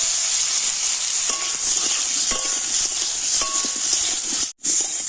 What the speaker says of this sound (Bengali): তো আমটা একটু হালকা করে ভেজে নিয়েছি।